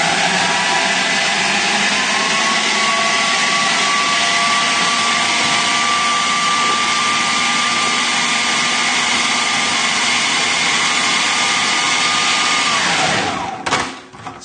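Food processor blitzing a coriander and lemon crust for cod, a loud continuous whirring motor holding steady for about thirteen seconds before winding down with a few rattles, close and alone.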